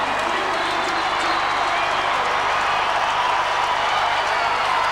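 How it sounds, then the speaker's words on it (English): A home crowd roars continuously at a 1999 Australian football match between Fremantle and St Kilda, a dense, steady wash of cheering and applause filling the whole stretch, with commentary talk mixed in. "Hometown crowd on Saturday Night Football, delighted"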